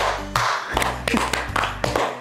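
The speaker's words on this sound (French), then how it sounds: "On applaudit pour Ézéchiel." Children and adults clap together at a church gathering with children, a dense run of hand claps heard over a low, steady hum.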